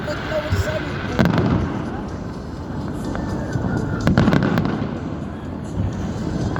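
A City Day fireworks display crackles and pops in the distance, with scattered bangs and a steady rumble of bursts over an outdoor crowd. Nearby people talk now and then over the show.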